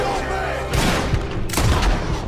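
Gunfire in Red Dead Redemption 2, a couple of loud shots and booms bursting over the game's ambient background, with someone talking excitedly around them.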